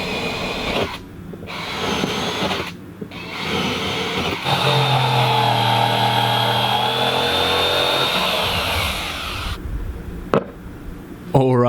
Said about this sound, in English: I'm going to go outside, hit the jigsaw, cut a perfect circle